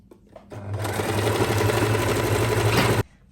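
A sewing machine stitching the collar and front placket of a chapan runs in one continuous loud, steady whirring burst of about two and a half seconds, then stops abruptly, with quiet room sound before and after.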